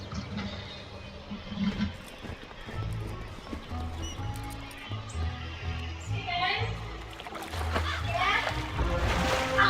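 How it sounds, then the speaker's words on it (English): A Wizard101 water-splashing sound effect of a flask being filled from a pond, like liquid pouring, plays over background music and clip-clopping, with someone talking. "You fill the flask with pure water from the pond."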